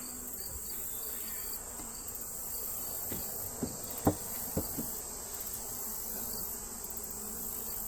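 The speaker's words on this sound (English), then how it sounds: "Lots and lots of bees on the lid." A steady, dense buzzing hum of many honeybees around a hive fills the air, continuous and close, with a few faint soft knocks underneath.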